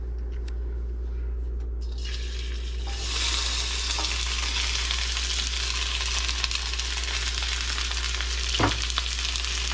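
Onion and garlic go into hot canola oil for a stir-fry, starting quietly and then bursting into a loud, continuous sizzle with crackling and a brief stirring clatter.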